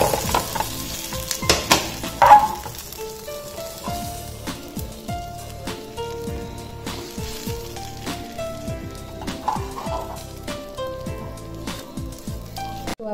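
Pomfret fish fries in a pan with a dense, steady sizzle and scattered sharp crackles and pops, loud and close throughout with no talking.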